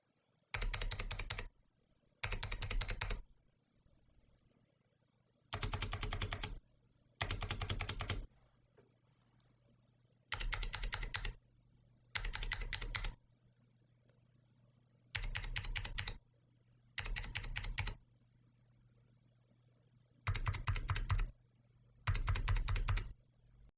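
Bursts of rapid clacky typing on a mechanical keyboard with ALPS switches, ten short runs separated by quiet pauses, close and crisp.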